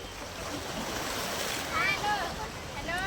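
Sea waves surge and wash steadily onto the shore at Uran beach, a continuous roaring rush with gusts of wind against the microphone and faint voices in the background.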